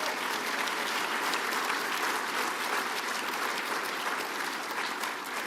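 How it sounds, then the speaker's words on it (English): An audience at a governor's speech breaks into sustained applause, a dense, even roar of many hands clapping, loud and unbroken with no talk over it. "A round of applause for that."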